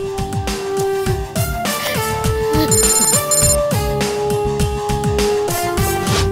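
An electronic telephone ringtone sounds a DGP hotline call in a Telugu film, repeating its tonal chime pattern loudly over a rhythmic musical score with no voices.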